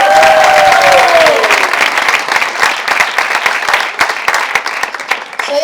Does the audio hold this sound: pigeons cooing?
no